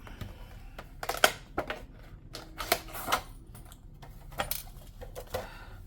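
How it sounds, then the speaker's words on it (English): A small plastic pencil case holding markers is opened, giving a run of light clicks and snaps with several sharper taps, close and quiet, with no talking. "So everything comes in this little plastic pencil case."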